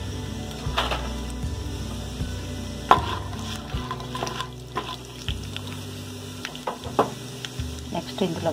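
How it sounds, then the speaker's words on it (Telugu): Mustard seeds, cumin and urad dal crackle and sizzle in hot oil in a pan, scattered pops and spoon scrapes over a low steady frying hiss, close by, with a faint hum in the background. "ఆయిల్ బాగా వేడైనంత వరకు వెయిట్ చేసి ఇందులోకి ఆవాలు, జీలకర్ర, ఉద్దిపప్పు యాడ్ చేస్తున్నాను."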